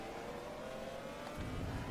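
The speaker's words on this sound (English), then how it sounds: "The car sounds a bit unsecure or uncertain of itself on its way up through the to the revs." A car engine in Forza Motorsport 2 revs upward with a hesitant, uneven climb, a steady harmonic drone that swells louder near the end, heard alone without talk.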